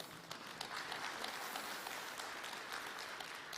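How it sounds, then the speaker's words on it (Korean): Audience applause at a national productivity conference case presentation, a dense steady patter of many hands clapping at moderate distance for several seconds, with no speech over it. "사실은 이 정도 나오면 박수 한번 쳐야 되는 거 아닙니까?"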